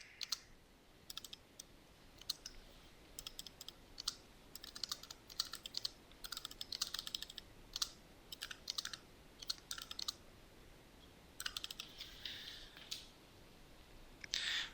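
Quiet, close clicking on a computer keyboard, typing in short irregular bursts of keystrokes separated by pauses, with no voices.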